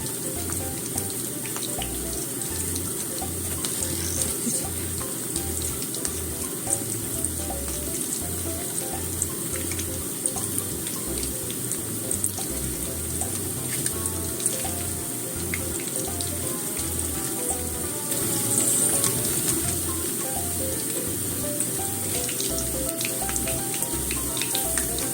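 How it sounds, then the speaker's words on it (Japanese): Lotus root karaage deep-frying in oil at about 170 degrees, a steady close crackling sizzle with dense hiss, continuous and even throughout. "今170度くらいで揚げてますよ。"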